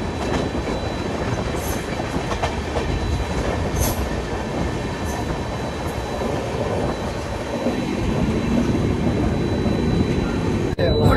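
Coalfield Express running from Dhanbad to Howrah, heard from inside an AC chair car: a steady loud rumble of wheels and carriage noise throughout, with faint rhythmic rail clicks and a brief squeal near the end.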